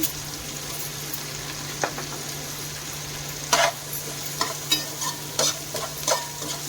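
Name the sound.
sliced onion frying in hot oil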